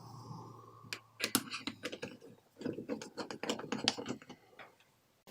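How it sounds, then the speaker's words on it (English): Hose clamp being tightened on the coupler over a MAF sensor during a car air filter change, heard as close, irregular ratcheting clicks and scraping in short bursts, with no voices. "take one of the sides of the coupler and attach it like that and tighten the hose clamp"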